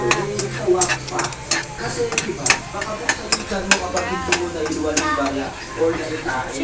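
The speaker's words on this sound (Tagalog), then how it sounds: "Nagluluto tayo ng fried chicken" Fried chicken frying in a pan, a steady sizzle broken by frequent sharp clinks and scrapes of a utensil turning the pieces, with a voice speaking intermittently over the cooking noise.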